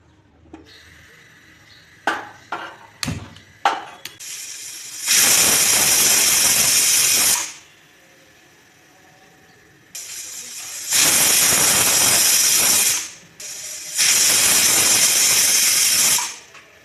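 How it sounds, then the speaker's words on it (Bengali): A pressure cooker boiling pumpkin pieces in half a cup of salted water vents steam in three loud, sustained hissing whistles of several seconds each, preceded by a few sharp clicks and rattles of the weight. "প্রেশার কুকারে সেদ্ধ করে নেব"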